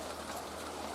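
Steady rain falls on an allotment plot, a continuous even hiss of drops on the ground and nearby surfaces. It is fairly quiet, with no voices.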